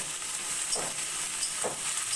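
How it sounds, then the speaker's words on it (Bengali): Sliced onions fry in hot oil for a mutton curry, making a continuous close sizzle and hiss broken by two brief stirring scrapes, with no talking. "পেঁয়াজ আমি 2-3 মিনিট মতো একটু হালকা সোনালি করে ভেজে নেব।"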